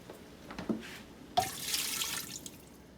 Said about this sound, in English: I'm going to add a half a can of water from each of the canned tomato cans